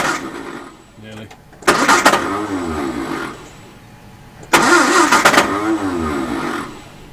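1956 Standard 8 classic car engine cranking twice, each a rhythmic starter churn that catches into a brief rough rev before fading, heard close up with people talking throughout.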